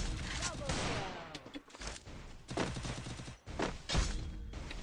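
Video game sniper gunfire sounds as a series of sharp shots and thuds in irregular bursts, mixed with a voice talking over the game action.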